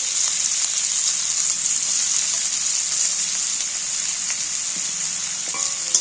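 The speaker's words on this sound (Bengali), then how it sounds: "কাটা পেঁয়াজগুলো তুলে দিচ্ছি তেলের মধ্যে" Chopped onions sizzle and crackle in hot oil for a fish roe curry, a steady, loud, dense frying hiss that carries unbroken for the whole stretch with no voices over it.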